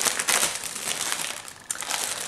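Wrapping on a Christmas gift crinkles and crumples steadily as it is pulled open, a continuous papery rustle with a few sharper bursts, close and fairly quiet.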